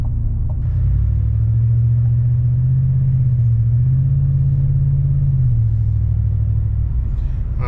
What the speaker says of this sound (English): we'll be able to step on the gas and see what kind of results we get